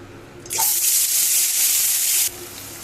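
Water poured from a mixer grinder jar into a cooking pan for egg korma, a steady rushing splash lasting nearly two seconds that starts and stops abruptly; no voices.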